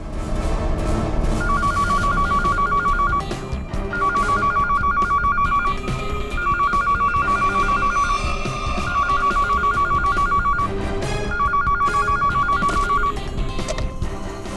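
A telephone rings in repeated bursts of trilling bell tone, five rings evenly spaced, heard over a dense, loud background of music or noise.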